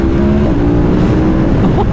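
KTM 1290 Super Adventure R motorcycle running at speed, a loud continuous engine drone with wind rush over two seconds and a slight pitch rise near the end.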